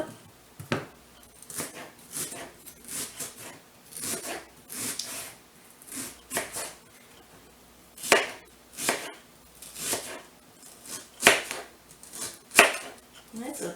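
A knife chopping through an onion on a cutting board: a steady series of crisp, close thuds and slices, some sharper strokes standing out, with no talking.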